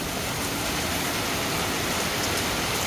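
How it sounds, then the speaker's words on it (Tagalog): Heavy rain pours down steadily during a typhoon, a dense, unbroken hiss of water falling with no other sounds. "Ang lakas ng ulan no."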